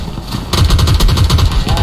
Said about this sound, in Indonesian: karena mendengar bunyi step tembakan, Ekstrim langsung saja datang dong